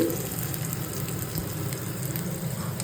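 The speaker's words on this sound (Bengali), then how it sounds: "তেল আমার গরম হচ্ছে চলো পেঁয়াজ ছাড়া যাক" Onions going into hot oil in a home kitchen, a steady broadband sizzle and crackle holding evenly throughout, close and fairly loud with no talking.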